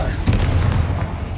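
A Confringo spell explosion in the Hogwarts Legacy video game goes off as a short, loud boom with a rumbling low tail fading over about a second.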